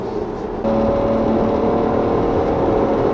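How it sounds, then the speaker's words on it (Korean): A Cadillac CT6 engine hums steadily from inside the cabin while driving, its tone rising a notch as the throttle opens, producing a smooth, continuous mid-pitched drone. "엔진 사운드가 상당히 듣기 좋게 튜닝되어 있습니다"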